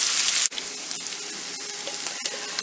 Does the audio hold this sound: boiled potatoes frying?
yes